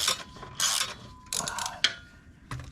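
A ratchet wrench loosens bolts on a Honda Helix scooter during a wire switch and exhaust install, with several close, loud bursts of rapid clicking separated by short pauses.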